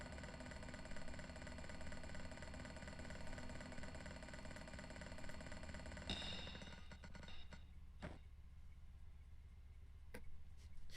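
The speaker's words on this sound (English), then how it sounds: "Looks like the on-off switch controls a pulley hook. It's running back and forth along a track." Pulley hook running back and forth along a track in a video game: a steady droning mechanical hum that cuts off partway through, followed by scattered ticks and clicks, with no talk.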